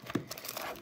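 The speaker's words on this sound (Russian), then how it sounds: "Открываю эту пачку." A chocolate bar wrapper for dark O'Zera Carenero Superior 97.7% cacao chocolate crinkles and crackles up close, with one sharper crunch early on, then steady quiet rustling as the pack is worked open.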